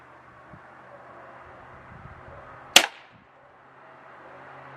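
A single sharp crack from a Webley Nemesis .177 CO2 air pistol fires once, close and loud, over a quiet background hum with a brief tail after the shot.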